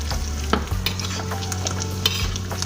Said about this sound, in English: You want that egg swimming around when you're frying it.